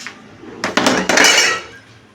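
Metal cooking pots and dishes being gathered up in a home kitchen, a few loud clattering clanks and scrapes in quick succession, close by, with no talk.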